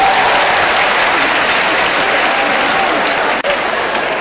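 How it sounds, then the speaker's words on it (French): Steady, loud applause from a crowd, continuous clapping filling the whole stretch with hardly any letup. "Applaudissez pour les enfants de nous ici dans ce pays"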